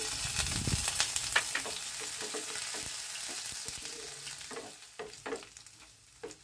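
Chopped ginger and garlic hit a hot tempering in a pan, a close steady frying sizzle with crackling pops and spoon stirring that gradually settles and quietens, with no talk.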